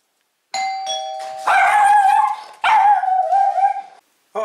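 A doorbell chimes loudly as the mailman arrives, then a pet dog barks and yelps in several close, insistent bursts, followed by a short pause.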